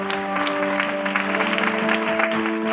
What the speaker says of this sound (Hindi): और जोरदार और बेहतर तरीके से ताली बजाएं।